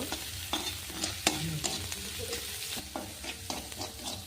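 Chopped onions frying in a pan until reddish, with a moderate sizzle under frequent spatula scrapes and knocks against the pan at an irregular pace.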